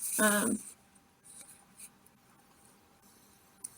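Pencil scratches lightly across paper in short, faint strokes while sketching two-point perspective boxes, quiet rasping bursts after a brief spoken moment at the start.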